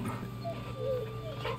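A pet dog in Final Fantasy XVI gives soft whimpers and a few thin, high whines over a steady game background hum, close and fairly quiet.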